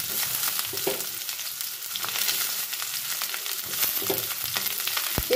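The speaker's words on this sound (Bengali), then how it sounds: "আলু আর মূলোটা কিছুক্ষণ তেলে ভেজে নেওয়ার পর এর মধ্যে এবার আমি বাদবাকি সবজি, পেঁয়াজ পাতা ও বেগুনটা অ্যাড করে দেব।" Potato, radish, spring onion greens, eggplant and other vegetables frying in oil, a continuous close sizzle with occasional stirring clicks and pops throughout.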